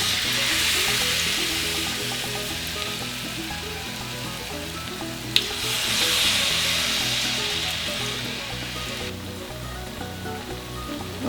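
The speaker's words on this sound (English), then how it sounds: "we're gonna start frying now" Steady crackling sizzle of bacalaitos (salt cod fritters) frying in hot oil, continuous and close, with one sharp pop partway through.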